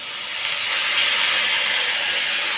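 Water splashed into a hot cooking pot of boiled food over a gas flame bursts into a loud, steady steam hiss that holds for over two seconds, with no talking.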